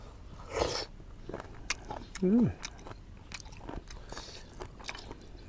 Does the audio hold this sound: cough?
no